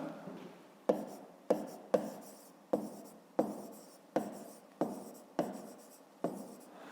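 A pen writes out a fifth-grade math solution on paper in quick, close strokes, about ten distinct scratches spaced roughly evenly.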